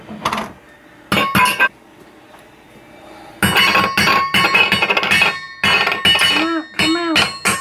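A spoon clinks and scrapes against an open can of cat food in a home, close and loud, in repeated bursts of metallic clatter with brief quiet gaps and a short ringing tone near the end.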